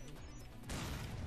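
Frag grenade blast in the Binary Domain shooter, a sudden broadband boom with rumbling crackle after a short lead-in of quieter game noise.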